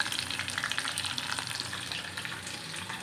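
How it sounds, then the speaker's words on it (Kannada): Green chillies fry in hot oil in a pan, giving a dense, continuous crackling sizzle at a low, even level throughout, with no voices. "ಇದಕ್ಕೆ ನಾಲ್ಕು ಹತ್ತು ಮೆಣಸಿನ್ಕಾಯಿ ಇದಕ್ಕೆ ಇದು ಫ್ರೈ ಆಗ್ತಾ ಇರುತ್ತೆ"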